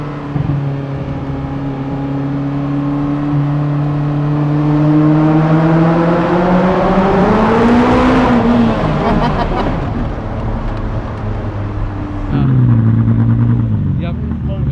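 A Ferrari F40 engine running rich on a mountain road drones steadily, then rises in pitch as it revs and accelerates, drops away, and picks up again near the end, loud and close with talk underneath.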